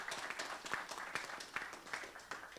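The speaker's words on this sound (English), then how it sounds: "And then clapping for the women here." Applause at a union seminar, a crowd clapping in a steady dense patter with a few louder claps standing out, moderately loud and continuous throughout.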